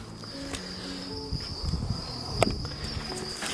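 Crickets inside a container on a cricket farm keep up a continuous high, steady chirping drone, with a few scattered knocks and footsteps nearby.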